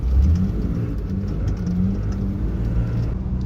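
A car on eBay wheel spacers drifts on a test drive, its engine droning steadily with a low rumble and whirring throughout, close and fairly loud, with no talk.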